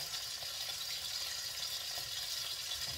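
Steady, faint hissing and crackling of food frying in a pan, with soft occasional stirring scrapes and no voices.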